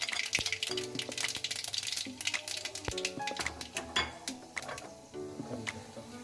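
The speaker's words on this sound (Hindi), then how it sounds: "अब हम राई डालेंगे" Mustard seeds drop into hot oil in a pan while poha is being made, giving close, dense crackling and popping with clinks of metal utensils throughout.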